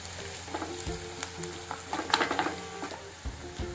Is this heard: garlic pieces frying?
yes